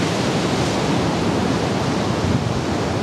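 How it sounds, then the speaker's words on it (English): Surf rolls onto the beach at Manzanillo in a steady, loud, unbroken wash of noise that holds through the whole stretch, with no voices over it. "But here's the beach. This is the beach, Manzanillo Uno."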